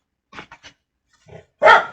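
A dog gives a few soft, short yips and grumbles, then one louder, sharper bark close by.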